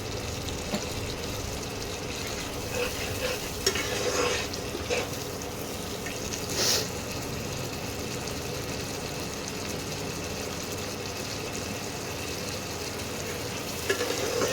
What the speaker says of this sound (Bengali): মশলাটা দিয়ে তেল ছাড়তে আরম্ভ করেছে